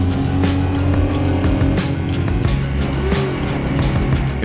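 A 2011 Dodge Charger drives with a steady, loud engine roar and road rumble, a continuous close drone that stays even throughout, with a brief rising whine partway through.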